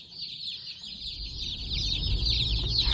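Newly arrived baby chicks cheep in a dense, continuous chorus of high, shrill peeps, close and lively, over a soft low rumble of handling.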